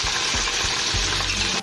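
Onions and green chillies sauté in a pan for mutton biryani under a dense, loud, continuous sizzle, with a few dull stirring knocks before it drops slightly at the end.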